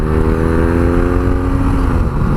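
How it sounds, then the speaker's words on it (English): A 2017 BMW R nineT Urban G/S motorcycle engine runs steadily with a raspy, buzzing note from its single exhaust outlet, loud and close, with no talking. "It's got a single exhaust outlet on it, and it's got a real raspy note."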